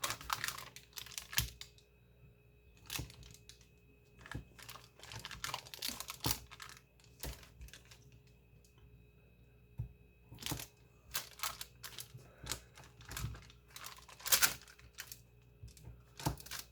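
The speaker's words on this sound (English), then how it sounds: "So we're just going to cut it in pieces here." Knife slicing through a slab of two-ingredient no-bake fudge, giving faint, scattered clicks and taps as the blade meets the board, each cut short and sharp, with quiet pauses between.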